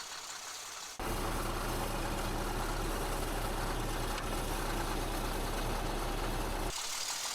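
A Caterpillar D8 dozer engine roars loud and steady as the machine moves off, starting abruptly after a quieter moment and dropping back near the end, a dense heavy rumble throughout.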